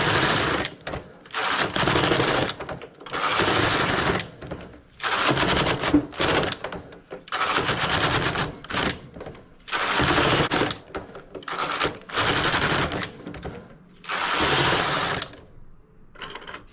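Lace stitch worked on the ribber bed of a knitting machine: the carriage makes loud rattling mechanical passes, about six strokes in steady rhythm, with brief quiet gaps between them.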